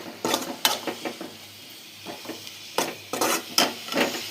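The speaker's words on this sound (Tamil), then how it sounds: "இது நல்லா கிளறிக்கலாம்." Spoon stirring spinach with masala, chilli and turmeric powders in a pan, giving bursts of scraping and scratching strokes with a soft sizzle beneath, pausing briefly midway before resuming with louder, quicker strokes.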